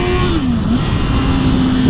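Honda CB650F motorcycle accelerating hard at high revs, a loud sustained engine whine that dips briefly with a gear change and climbs again, heard close with wind rush.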